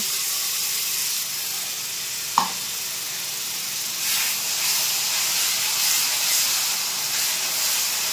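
Steady close sizzle and hiss of ginger, garlic and chili paste hitting fried onions in a hot pan, with one brief clink near the start and the frying continuing unbroken.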